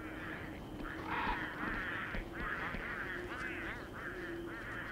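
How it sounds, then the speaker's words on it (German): A wild bird in the video game Don't Starve Together gives repeated honking, goose-like calls in an uneven series over steady game background noise. "Der wilde Vogel ist hinter mir her."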